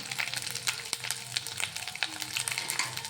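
Spiced samosa filling with salt, turmeric and coriander powder sizzles and is stirred in a pan, a steady close frying hiss broken by soft scraping strokes of the spoon, no voices.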